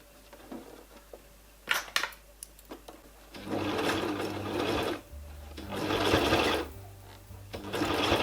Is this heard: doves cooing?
no